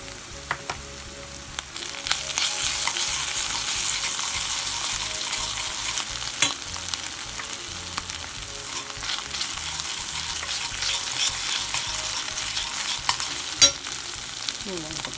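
Ground turkey picadillo sizzles steadily in a pan as tomato paste is stirred in, with continuous frying crackle, spoon scraping and occasional clinks, no voices.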